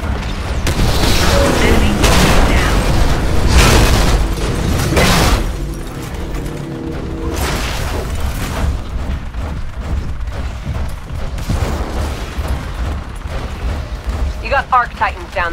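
Heavy booming artillery blasts from mortar titans in the Titanfall Frontier Defense mode on the Nexus map, loud and dense with rolling impacts and gunfire, fading to a quieter mechanical rumble; a voice speaks briefly over it.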